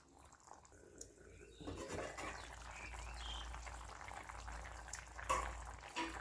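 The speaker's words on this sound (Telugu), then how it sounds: "కాసేపు మూత పెట్టి ఉడికించేద్దాం" Chicken curry simmers in a covered pot, giving a soft, steady bubbling and boiling hiss that grows after a quiet start, faint and continuous with a few small clicks.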